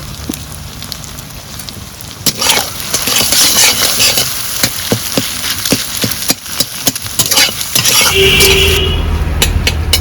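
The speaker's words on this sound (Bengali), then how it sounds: "ডিম ভালো করে ভেজে নিয়েছি এবার তুলে নিচ্ছি ডিমগুলো" Loud, continuous sizzling of eggs frying in a pan, with scraping and stirring clicks throughout and a brief tonal beep near the end.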